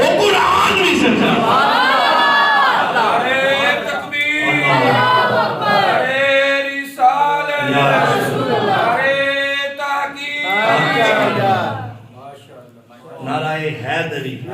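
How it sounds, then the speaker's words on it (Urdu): A large crowd at a religious gathering chants the Nara-e-Haidari slogan, loud massed voices rising in repeated rhythmic shouts with brief pauses between calls, close and sustained. "نعرہ حیدری سنی اسی پورے نعرے لاندے ہیں الحمدللہ"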